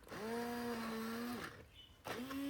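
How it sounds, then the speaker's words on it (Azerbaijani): A blender purees cooked quince for jam with a loud, close motor whine that holds a steady pitch, drops and cuts out briefly, then spins back up. "Artıq bişib, altını söndürüb blenderdən keçirdirəm."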